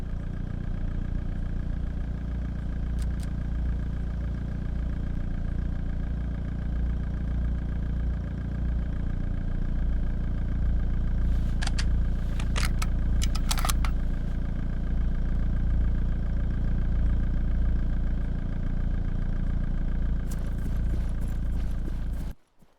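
In a battle royale video game on Wake Island, a car engine runs with a steady, loud mid-pitched drone for about twenty seconds, with brief clattering bursts and an abrupt cutoff at the end.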